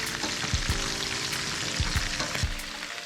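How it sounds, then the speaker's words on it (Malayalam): Sliced onions with a little salt sautéing in a pan for kaada biriyani give a steady, moderate sizzle, broken by a few sharp scraping stirs of a spoon, close by and with no voices. "ഈ സവാളയൊക്കെ ഏകദേശം വഴന്ന് വന്നിട്ടുണ്ട്."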